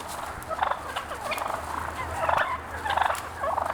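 A group of wild turkeys gobbles in Michigan woods at dawn, rapid rattling calls overlapping in several bursts at moderate distance over a low background hum, with no voices.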